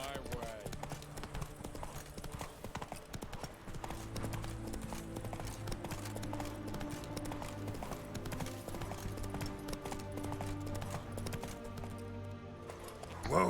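Roach, the horse in The Witcher 3, gallops with steady, rhythmic hoofbeats under a continuous layer of game music, with speech present throughout.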